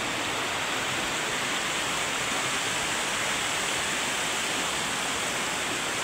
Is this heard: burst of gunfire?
no